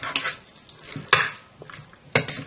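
Chicken being stirred with yogurt in a pot, giving a few separate clanks and scrapes of a utensil against the metal, with soft wet mixing in between.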